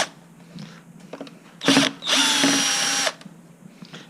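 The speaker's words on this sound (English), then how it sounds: "I'm using mine in the drill." Power drill with a Phillips bit backing screws out of a Terrain/Ryder Tri gearbox housing: a short burst of whirring, then a steady high-pitched whine for about a second, close and loud, with faint handling clicks around it.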